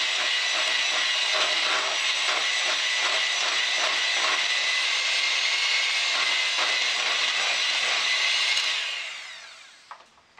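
An electric hand mixer whirs steadily with its beaters in cake batter that has lemon zest in it. The sound is a loud, even buzz close by for several seconds, then it winds down and stops near the end.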